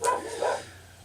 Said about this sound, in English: I apologize if you can hear my dogs